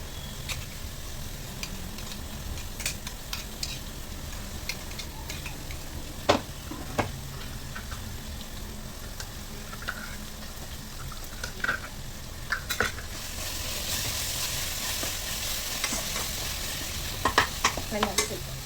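Food sizzles steadily in a hot pan on a home stove while a spoon stirs it, the frying hiss continuous and close with frequent scraping and clicking stirs, no talking.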